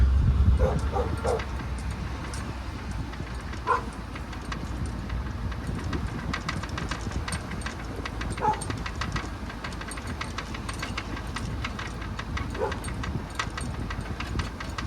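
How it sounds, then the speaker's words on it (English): A dog at a residential property barks in scattered short yips and woofs, some at a distance, over a constant rumbling background, with a few quiet voices. "Got a dog barking."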